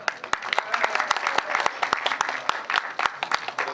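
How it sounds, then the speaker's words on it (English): An audience at a talk on ridge soaring breaks into scattered, uneven applause, sharp individual claps standing out over a softer crowd of hands, with some murmured voices beneath. "A round of applause for when we get started."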